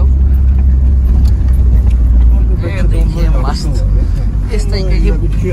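Off-road vehicle grinding up a steep slope near the Gobustan mud volcanoes in Azerbaijan, its engine a steady loud low drone throughout, with people talking over it.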